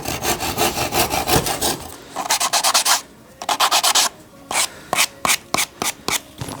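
A hand saw cuts through wood held in a miter box with a small wedge, for tilting wooden drawers. It gives a steady rasping stroke sequence, continuous at first and then short, distinct back-and-forth strokes, close and clear.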